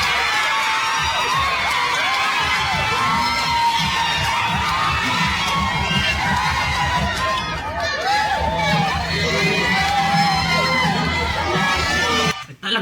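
A large crowd cheers and shouts continuously as Vice President Sara Duterte arrives in Cebu, a dense, steady roar of many voices with whoops rising throughout before it cuts off near the end.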